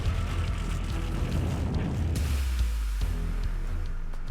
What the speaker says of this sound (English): set it on fire, get into that room, see what it's like to be in 750-degree heat, and see just how fast that cluttered room fire spreads